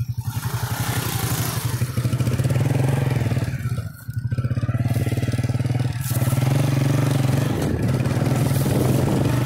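A motorcycle engine putters steadily up close, rattling and thudding as it rides over a rough village road, briefly dipping before resuming its loud chug.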